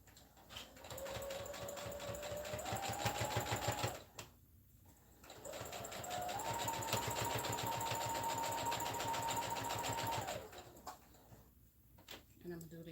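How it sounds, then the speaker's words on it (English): A sewing machine stitching fabric up close, running in two steady bursts of rapid, even needle strokes that pick up speed, separated by a short pause. "And then stitch all the way down to the other end"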